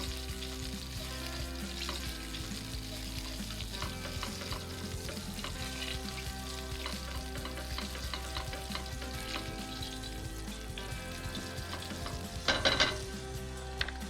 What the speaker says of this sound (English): Let's give that a nice stir up.